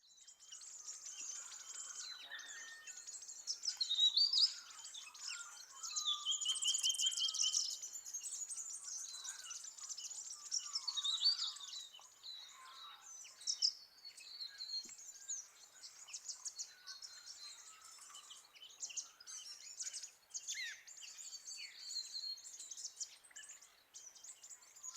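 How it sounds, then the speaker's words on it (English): Mixed foraging flock of silvereyes, thornbills, weebills and a fantail keeping contact, a continuous chatter of high, thin chips, twitters and short trills overlapping from several birds at close to middle distance, with no voices. "what you're hearing here are all the contact calls that maintain the integrity of this foraging flock"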